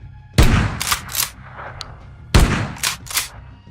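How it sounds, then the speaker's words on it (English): Video game shotgun built from blended punch, body and mechanical layers fires twice, each loud close blast followed by two quick mechanical pump clacks, with near silence between. "The same technique of creating and blending together separate punch, body, and mechanical layers that simultaneously trigger random variations of each was used for the shotgun"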